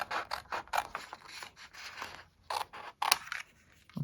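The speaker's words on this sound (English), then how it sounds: "you're just going to cut right on the score line to cut the pieces off." Scissors cut card along a score line in a string of close, crisp snips and crunches, coming in quick uneven bursts with short pauses, moderately quiet.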